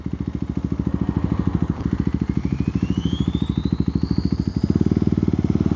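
KTM Duke 390 Gen 3 single-cylinder motorcycle engine at open throttle, a loud, close, rapid pulsing drone that climbs steadily in pitch and swells louder near the end, with no talking.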